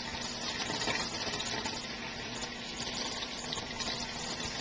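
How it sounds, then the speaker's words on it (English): Tap water runs steadily over raspberries being rinsed, a continuous close, hissing splash with no pauses. "can you rinse the raspberries?"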